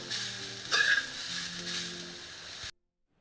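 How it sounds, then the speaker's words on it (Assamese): Carrot and radish pickle with spices sizzles steadily in a kerahi while a utensil stirs and scrapes through it, with a brief louder scrape early on, before the sound cuts off abruptly. "দি ভালদৰে মছলাখিনিৰ লগত মিলাই ল'ব।"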